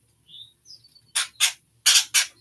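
A pet bird gives a few faint high chirps, then four loud, harsh squawks in two close pairs, near and with no talking.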